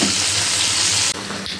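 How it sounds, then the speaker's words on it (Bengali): Warm water poured into a cooking pan over ginger and chili paste, a loud, steady rushing splash for about a second that drops into a softer hiss and sizzle. "সামান্য গরম জল দিয়ে"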